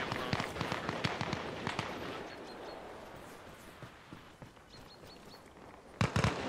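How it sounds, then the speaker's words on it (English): Grenade launcher fire and explosions in the Arma Reforger war game, a burst of sharp thumps and cracks at the start, then scattered distant blasts and a loud close explosion near the end. "Man, they are not shy using their grenade launchers."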